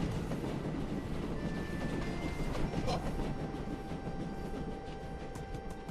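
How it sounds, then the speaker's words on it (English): A train in the video game My Time at Sandrock rumbles past in a loud, steady roar with rail clatter and a faint high whine, filling the whole stretch without talk. "I got hit by a train."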